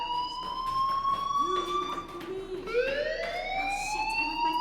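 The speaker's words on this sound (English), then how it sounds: "do you hear that fire alarm? That means you should be outside." A school fire alarm in the game Life is Strange blares with a steady, wavering siren-like tone. It rises and shifts in pitch and sounds fairly loud and continuous.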